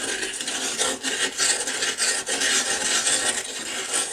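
Steady rough scraping and rubbing of a toilet bowl with a natural cleaning tool, a dense, continuous rasping texture close up with small dips in rhythm, no voices.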